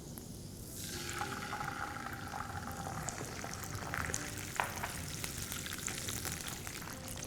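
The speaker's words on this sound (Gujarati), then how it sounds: "હવે આપણે આ જે ફ્રેશ ટમેટાની પ્યોરી બનાવી છે એ એની અંદર નાખશું" Fresh tomato puree goes into a hot mustard seed and curry leaf tempering in a pan, setting off a steady soft sizzle and crackle that continues without speech at low level.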